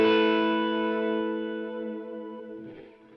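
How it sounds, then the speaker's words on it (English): A sustained guitar chord through a Line 6 Helix modeler with stereo sine-wave auto-pan tremolo rings out and slowly fades, its tone wavering gently as it sweeps side to side, with a soft noise near the end. "set up an auto pan in modulation section. Stereo, tremolo, auto pan, and sine wave."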